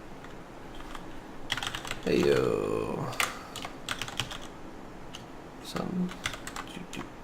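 Clattering computer keyboard typing during a late-day Agrarian Skies Minecraft play session, rapid uneven keystrokes running close and fairly loud throughout, with someone speaking briefly over them.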